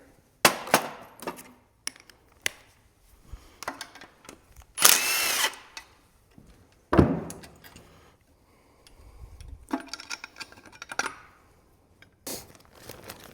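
Impact or power tool on an LS V8 engine's oil pickup bolt, heard as scattered short bursts and clicks with brief whirs, close by and fairly loud between quiet gaps, with no talking.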